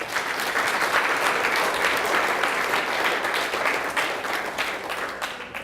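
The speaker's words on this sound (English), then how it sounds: "let's have one more big round of applause for John Warlow" A roomful of people applauds at a book launch for Dr John Warlow, dense steady clapping that holds loud for several seconds and then starts to thin, with no voices over it.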